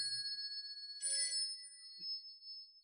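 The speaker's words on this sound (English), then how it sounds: "Oh, the phone." A telephone ringing with a bright, steady tone that briefly swells louder, heard alone in a quiet room with no talking.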